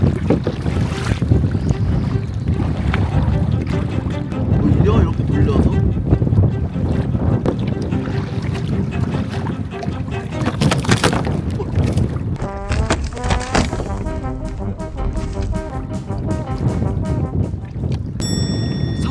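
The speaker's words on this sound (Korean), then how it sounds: "아 바람 좀 그만 불어." Strong wind buffets a small boat out on the water, roaring loudly and steadily against the microphone with sloshing water and rattling underneath, and a few faint voices at times.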